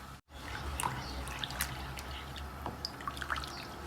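Melted jaggery dissolved in water is poured in a steady close trickle, with small drips and splashes breaking through the continuous liquid sound.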